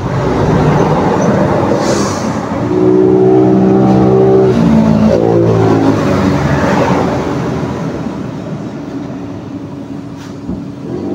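Motorized tricycles putter past on a village road near an elementary school, engines swelling loud and close as one passes, then fading into a steady rumble of traffic.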